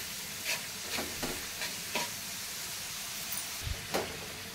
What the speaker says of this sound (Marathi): आणि आता कांदा शिजवताना ना गॅस फास्ट ठेवायचा आणि मस्त असं आपल्याला कांदा शिजवून घ्यायचा आहे।